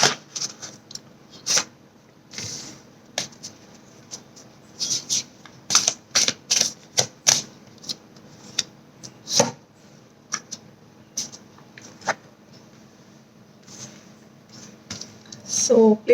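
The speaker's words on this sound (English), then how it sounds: "So placing these cards so you can see them." Tarot cards are laid down on a table one after another, giving sharp, close taps and soft slaps in irregular bursts, with some faint handling rustle and a voice talking quietly in places.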